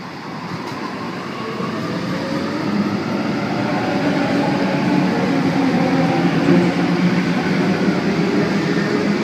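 A Sydney Trains Waratah A43 set departs Artarmon station, a steady rumbling roll with faint clickety-clack that grows slightly louder as it pulls away, heard from nearby without any talking.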